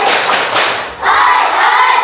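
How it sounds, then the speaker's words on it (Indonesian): A class of schoolchildren doing a spirit clap cheer in a classroom, a loud, dense burst of many hands clapping and young voices shouting together in rhythm, close and filling the room for about two seconds. "Coba tepuk semangat."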